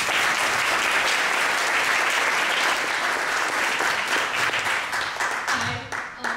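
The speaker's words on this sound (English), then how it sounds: "All right, everybody give a round of applause for Katie." A crowd claps for Katie at a Monmouth County gathering, thick continuous applause that thins toward the end as it tapers off and a voice begins to emerge.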